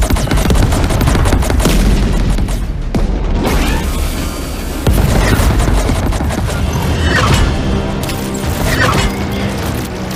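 Starship weapons fire in the space combat game Chorus, a dense, loud barrage of blasts and booms that runs almost without a break, with mechanical whines layered through it.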